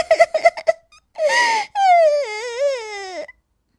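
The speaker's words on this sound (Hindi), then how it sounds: "तभी उसे रोने की आवाज आती है" A voice cries and sobs in a forest scene of a cartoon, starting with short choppy sobs, then a breathy gasp and a long wavering wail, loud and close with no other sound.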